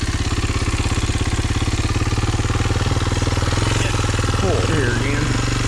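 A Jeep engine revs steadily as its wheels spin on a slick trail, making a close, loud, rhythmic throbbing that runs throughout; someone speaks briefly over it near the end.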